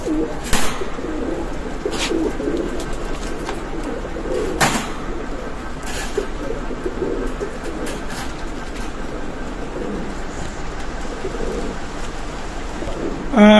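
Pigeons at a pigeon loft cooing repeatedly close by, soft low throaty calls over a steady background hum, with a few sharp clicks and knocks scattered throughout.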